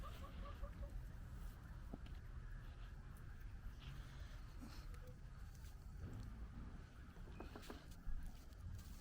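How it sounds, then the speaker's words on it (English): Faint clucking from hens and a rooster in the distance over a steady, noisy outdoor background, with a brief bump near the end. "This is George, our rooster. And his hens."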